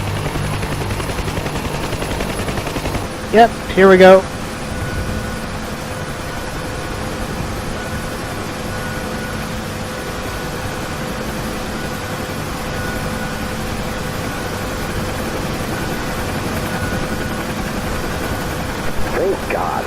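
A UH-1 helicopter's turbine whines steadily in a DCS combat flight sim, a continuous droning hum with a brief cluster of sharp clicks early on and someone speaking briefly over it.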